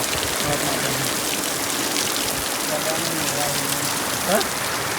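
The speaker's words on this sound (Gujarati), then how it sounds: "ફૂલ વરસાદ ચાલુ થઈ ગયો" Heavy rain pours down in a thick, steady hiss, with faint voices now and then in the background.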